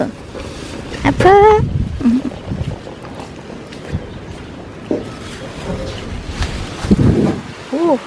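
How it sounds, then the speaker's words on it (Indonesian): Strong storm wind gusts and buffets the microphone in Taiwan, a rough, fluctuating rumble under a person talking, with a few brief voiced sounds mixed in. "Anginnya gede banget. Dingin."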